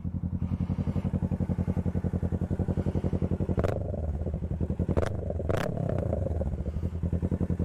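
V-twin motorcycle with its exhaust baffle removed, idling close up in a steady, loping rhythm of low pulses, with a few sharp clicks and scrapes over the engine partway through.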